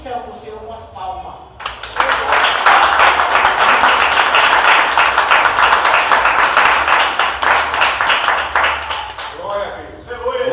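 A church congregation claps hands together in a dense, sustained burst of applause that swells after a brief spoken lead-in and continues loudly for several seconds before tapering off.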